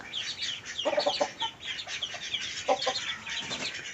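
Chickens cluck in short bursts across a busy farmyard, several birds close by, with a steady background of chatter from the flock.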